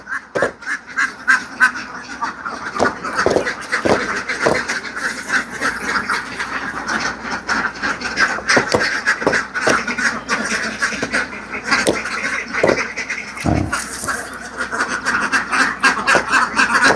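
A dense flock of ducks on a large farm in Laos quacks steadily and loudly for the whole stretch, with many overlapping calls and sharp nearby bursts over a constant chattering background.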